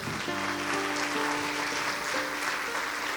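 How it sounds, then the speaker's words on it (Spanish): A church congregation applauds, a dense wash of clapping running throughout, with a sustained organ or keyboard chord sounding underneath. "Denle un aplauso al Señor"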